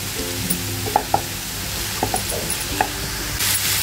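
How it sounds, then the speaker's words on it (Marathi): Grated carrot sautés in ghee over high heat for gajar halva, a soft continuous sizzle broken by a few sharp clicks and scrapes of the spatula against the pan, close and with no talking. "आता हा गाजराचा किस मोठ्या गॅसवर चांगला तुपावर परतून घ्यायचा."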